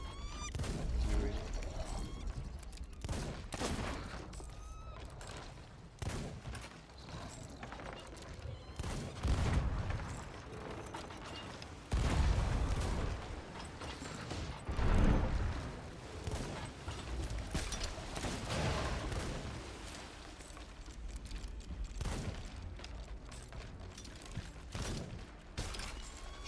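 Gunfire in the pirate video game Sea of Thieves, with dense volleys of shots and booms rolling on and off for nearly half a minute, loud and busy, with occasional voices mixed underneath.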